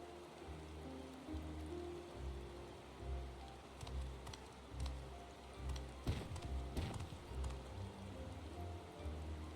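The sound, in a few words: rain in video game Final Fantasy XIV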